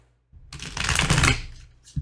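A deck of tarot cards is shuffled once in a quick riffle, a close, crisp flutter lasting about a second and a half that ends with a soft tap as the cards settle.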